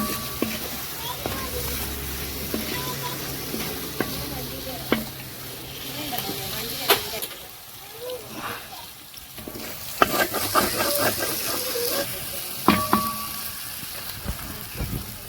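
Chopped carrots sauté in hot oil for a rainbow chicken dish, a constant sizzle broken by repeated scraping stirs of a spoon against the pan, with a voice speaking now and then over the cooking.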